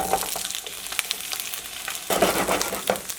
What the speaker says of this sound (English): I'm gonna pan fry it and glaze it with some store-bought teriyaki sauce